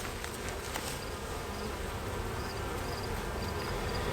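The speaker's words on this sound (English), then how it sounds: "There's a couple of angry bees on me, and that's okay." Honey bees at an opened hive give off a dense, steady, agitated buzz that fills the whole stretch, loud and close, with individual bees zipping past now and then.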